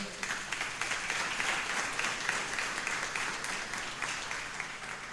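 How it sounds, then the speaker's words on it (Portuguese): A church congregation breaks into sustained, dense applause, many hands clapping together at a steady level for several seconds. "Vamos aplaudir Jesus pela cirurgia."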